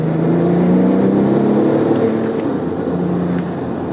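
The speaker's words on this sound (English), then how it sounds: "This has so much power that it's able to get squirrely third gear." A 2008 Porsche 911 GT2 (997) engine pulls hard in third gear going uphill, a loud, steady, close low-pitched roar that holds throughout with no one speaking.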